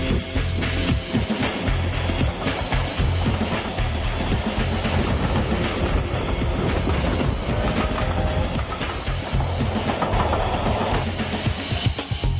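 A train on the West Highland Railway in Scotland rumbles steadily along, with rhythmic clattering of wheels on track and a loud, continuous mechanical roar throughout.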